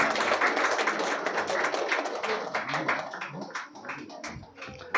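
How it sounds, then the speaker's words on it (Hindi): An audience at a book launch event claps in a dense burst of applause that carries across the whole moment and fades slightly toward the end. "Everyone please big round of applause for Yunus Sheikh sir."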